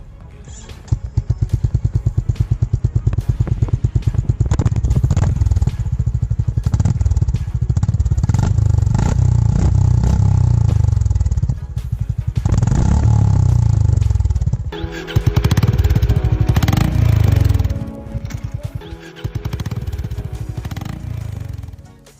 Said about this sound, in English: details new exhaust sounds with beautiful classic motorcycle in Japan